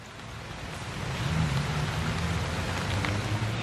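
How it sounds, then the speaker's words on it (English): Rain pours outdoors with a dense, even hiss that swells slightly and holds steady, with a faint low rumble underneath, and no voices. "Unpredictable rain."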